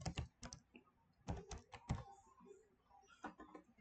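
Computer keys are pressed in a few quick clusters of clicks, close but quiet, with short gaps between the taps and no voice over them.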